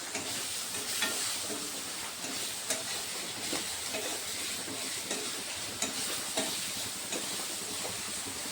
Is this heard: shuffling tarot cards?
no